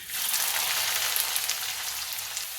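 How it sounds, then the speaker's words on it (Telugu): Finely chopped onions hit hot oil and sizzle in a steady, loud, close hiss that holds evenly after a brief quiet start. "ఈ ముక్కల్ని ఇప్పుడు ఈ నూనెలో వేసేస్తున్నాను"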